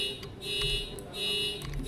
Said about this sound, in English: My parents' car starts beeping for no reason.